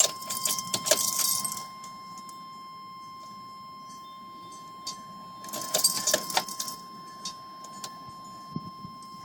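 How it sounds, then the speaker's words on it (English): Keys jangling in the ignition of a Chevy Blazer with a 4.3L V6 as the key is cycled on and off to prime the fuel system, two bursts of metallic rattle with faint chimes between. "cycle the ignition on and off for a little bit. Get the fuel system primed up."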